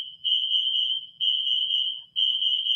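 Fire alarm in an aircraft carrier hangar bay sounding a loud, steady high-pitched electronic tone in three long pulses, each lasting about a second with brief dips between, no voices.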